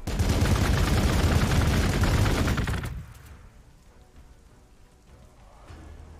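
Units trade dense, rapid gunfire in Warhammer 40k Gladius Relics of War for about three seconds, loud and steady like a crackling fusillade, then it stops abruptly and only quiet game ambience remains.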